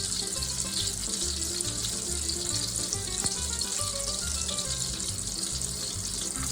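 Meatballs and sausage searing in olive oil in a pan, a dense, continuous hiss of frying with a hint of bubbling, steady and close, while a brief word is spoken.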